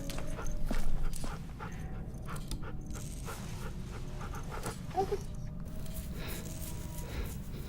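Rosie the dog panting steadily while being petted in The Walking Dead: The Final Season video game, a continuous breathy pant over quiet game ambience.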